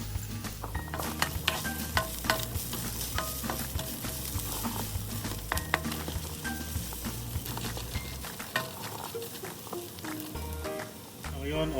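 Garlic and onion sauté in a pan for a Filipino sardine dish with bitter gourd, a steady close sizzle with scattered ticks and utensil clinks running throughout, with no talk over it.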